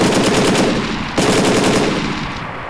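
Automatic weapon fire in the combat video game Fox Company: Operation Hydra Storm, a loud, dense machine-gun burst that rattles continuously, breaks off for an instant and then resumes.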